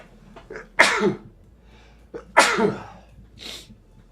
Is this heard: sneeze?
yes